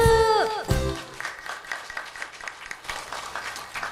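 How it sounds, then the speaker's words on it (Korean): Church congregation applauding at a worship concert, a burst of clapping rising after a sung phrase and continuing steadily, moderately loud and filling the room. "나를 위해 서로를 위해 응원의 박수."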